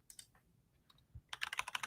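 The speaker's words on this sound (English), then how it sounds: "that's the most satisfying keyboard sound" Keys on a computer keyboard clack in a quick burst of crisp, close taps near the end, after a few scattered soft clicks.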